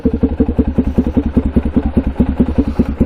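A cheap quad ATV engine runs without the choke, up close, with a fast, even chugging pulse and clattering beats at a steady idle.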